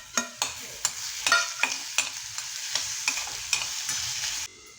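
Onion hits a pan of browned garlic and fries with a crackling sizzle, while a spatula scrapes and stirs in a quick, regular rhythm, close and fairly loud, ending abruptly.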